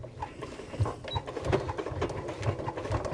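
A home sewing machine runs slowly at a 3.5 stitch length through thick, bulky layers of fabric on a tool wallet, giving a soft, uneven chugging rhythm of needle strokes at a fairly low level.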